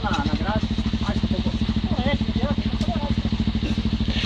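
Motorcycle engine running with a steady pulsing throb on a muddy, wet trail ride, loud and close throughout while riders talk over it.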